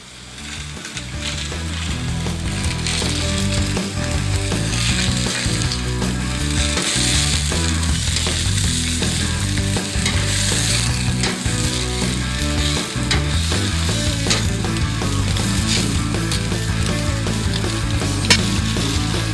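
Food sizzles and fries on a hot BBQ plate in a constant, fairly loud crackle lasting throughout, with occasional scraping clicks from a utensil.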